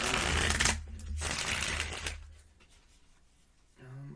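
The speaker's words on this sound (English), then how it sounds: "while I'm shuffling these cards" A deck of tarot cards is shuffled by hand in two long riffling bursts close up, the sound then fading to quiet handling before a voice speaks briefly at the end.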